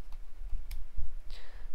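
Computer keyboard keys click a few times in quick, uneven taps, close and fairly faint over a quiet room background.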